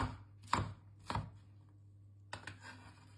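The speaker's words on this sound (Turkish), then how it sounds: "İlk olarak tarhana malzemelerini orta büyüklükte doğruyorum." A knife chops tarhana vegetables on a board into medium pieces in a few sharp, separate strokes, close by, with pauses between them.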